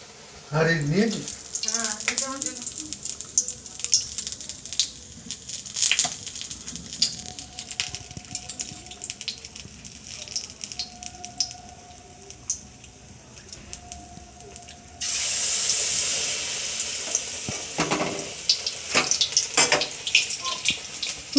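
Beguni, battered eggplant fritters, fry in hot oil with a steady crackling sizzle that suddenly swells into a louder, denser hiss. A voice talks intermittently over the frying.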